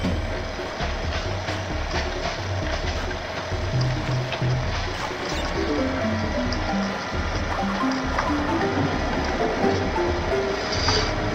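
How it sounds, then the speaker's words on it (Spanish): Flowing river water in the Crash Bandicoot video game, a steady rushing wash with no breaks, heard under looping game music with bright melodic tones throughout. "Estamos como en un río."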